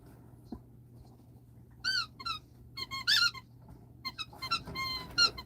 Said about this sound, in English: And that one there with the squeaky is Baby and Angel